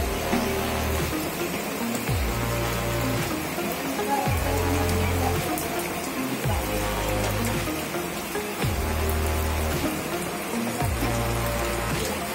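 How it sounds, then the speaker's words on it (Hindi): Heavy monsoon-style rain pours down steadily in Mumbai, a dense, continuous hiss of drops on surfaces that stays loud and even throughout, with no voices. "यहाँ पे बहुत बारिश हो रही है। लिटरली बहुत बहुत ज़्यादा बारिश हो रही है"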